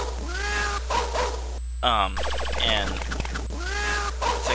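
Electronic cat meows from the 1981 Exidy arcade game Mouse Trap, synthetic swooping tones repeating among bleeps and game sound effects, with someone talking over them.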